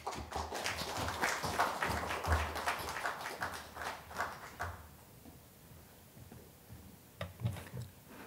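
An audience at a literary award ceremony gives scattered applause, with sparse, quiet claps for about five seconds before thinning out, then a few more claps near the end.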